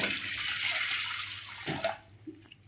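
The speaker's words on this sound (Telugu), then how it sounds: "తగిన నీళ్ళు పోసేసుకొని" Water pours into a cooking pot for a cauliflower curry, a steady splashing rush for about two seconds before cutting off, followed by a few soft clinks.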